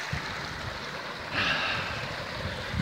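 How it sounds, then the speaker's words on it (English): A mountain river near Bassi Falls rushes in a steady, broadband wash of moving water, heard fairly close and continuous with no voices over it. "this is the rushing river."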